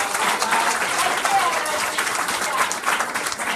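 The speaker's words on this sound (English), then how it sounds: "Big round of applause." Audience at a city conversation talk applauding the presenters, a continuous, even wash of clapping throughout, with a voice speaking over it.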